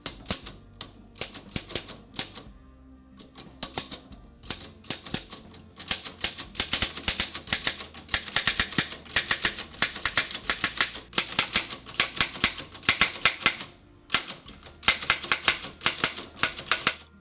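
A repaired Remington typewriter being test-typed, with rapid, close, loud key strikes in irregular bursts, brief pauses and a carriage-return ding or shift around the three-second mark, no voices.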